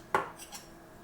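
A single clink of a utensil against a jug while lemon rinds and sugar are sieved into homemade lemonade, followed by two faint, brief scraping touches, with no voices.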